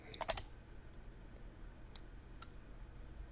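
A computer mouse clicks on a PDF download link, two or three close, sharp clicks near the start followed by two fainter ticks later, over quiet room noise.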